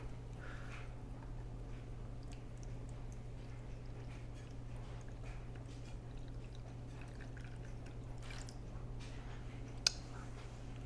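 Water trickles and pours quietly into a 70-gram container on a scale in a kitchen, a faint continuous flow over a low steady hum, with a sharp click near the end.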